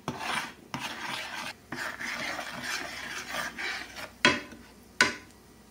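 Shrimp stirred with Old Bay seasoning in a pan, a close scraping and rubbing of utensil against the pan in repeated strokes, with two sharper knocks near the end.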